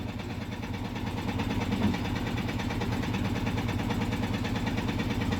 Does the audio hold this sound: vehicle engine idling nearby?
yes